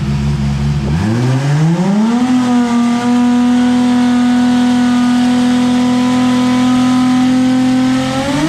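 Car engine revving hard on a dyno at FuelTech, climbing quickly in pitch and then holding a loud, sustained high-rpm drone for several seconds, close and alone.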